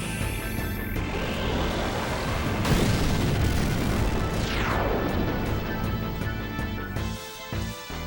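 An explosion in Final Fantasy IX on the PS1 erupts as a long, dense crash with whooshing sweeps and sparkling effects, loud throughout and fading after about seven seconds.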